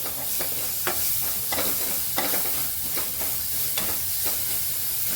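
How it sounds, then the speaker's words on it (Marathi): Ginger paste sautéing in hot oil in a pan, a steady close sizzle with repeated scraping stirs cutting through every second or so, with no talking. "आलं पेस्ट टाकून घ्यायचे चांगलं परतून घ्यायचं तेलावरती"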